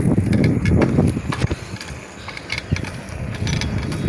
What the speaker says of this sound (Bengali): সাইকেল চলতেছে সাইকেলের গতিতে